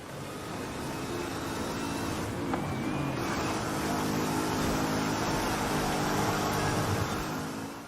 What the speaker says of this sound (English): the car sounds was taken directly from Forza Horizon 5